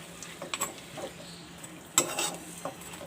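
Mutton with garlic-ginger paste frying in a karahi, a ladle scraping and knocking against the metal in scattered strokes over a low sizzle.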